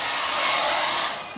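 A blow dryer drying hair gives a loud, steady, close-up rushing whoosh of air that fills the whole short stretch with no voices.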